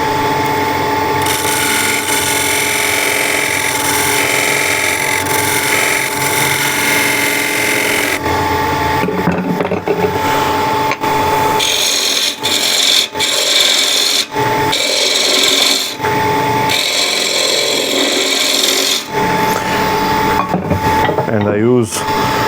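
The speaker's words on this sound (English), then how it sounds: "I use a spindle gouge. I drop the handle and then raise the handle to pivot the edge into the wood." A spindle gouge cuts a wood tenon on a spinning lathe, giving a loud, close, continuous rasping scrape over a steady machine whir that shifts in texture as the edge pivots into the wood.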